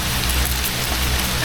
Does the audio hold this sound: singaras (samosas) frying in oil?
no